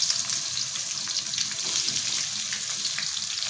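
Chopped onion frying in oil in a home kitchen, a constant close hiss of sizzling with faint scraping, running steadily and alone throughout.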